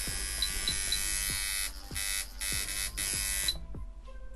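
A coil liner tattoo machine running after voltage tuning, giving a steady close electric buzz with a rhythmic pulsing hum and a brief drop in intensity partway through.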